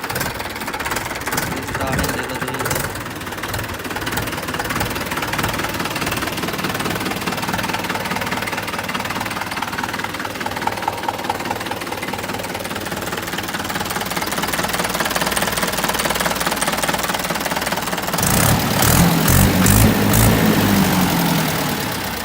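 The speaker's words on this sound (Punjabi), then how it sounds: "ਚੱਲ ਬਈ ਮਾਰ ਤੂੰ ਰੂਟਾਵੇਟਰ" A tractor engine pulling a rotavator runs steadily at close range for the whole stretch, its rumble swelling louder near the end as the machinery works harder.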